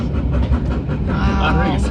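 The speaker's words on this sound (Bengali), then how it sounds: "এই ট্রেন যাবে এই ব্রিজটার উপর দিয়ে" A train rumbling across a bridge, its low rolling clatter heard close and loud beneath a person talking over it for the short stretch.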